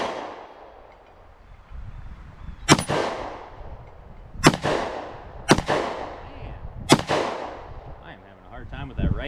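Taurus GX4 pistol shots ring off distant steel targets at a range: four loud, sharp reports spaced a second or two apart, each trailing off with a long echoing decay over steady outdoor background noise.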